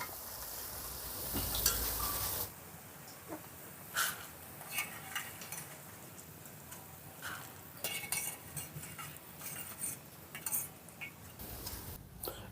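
Boondi, drops of gram flour batter, fry in hot oil with a faint, low sizzle, while a metal ladle clinks and scrapes against the pan at irregular moments.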